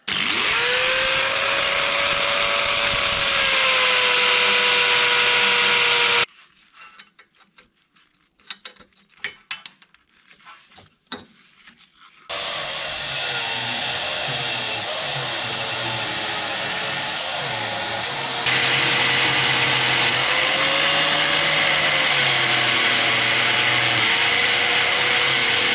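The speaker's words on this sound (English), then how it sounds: "Just pull out the angle grinder." An angle grinder cuts off a stripped Allen head bolt with a loud, steady high whine, breaks for several seconds of quieter clatter and knocking, then grinds on continuously.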